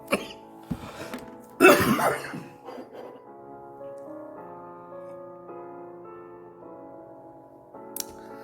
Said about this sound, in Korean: 말씀 읽는데 기침이 갑자기 났습니다